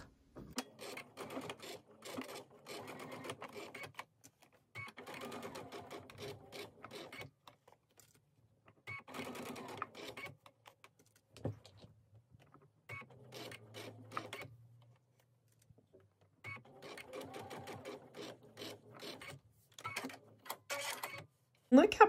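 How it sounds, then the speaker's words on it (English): An embroidery sewing machine top-stitches the edge of a quilt block in repeated bursts of rapid mechanical whirring and clatter, separated by short pauses, with a low hum in one gap. "let's go ahead and top stitch this edge onto our block."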